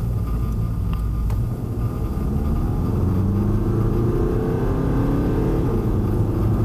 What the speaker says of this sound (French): Fais-nous un petit coup d'accélération pour voir un petit peu.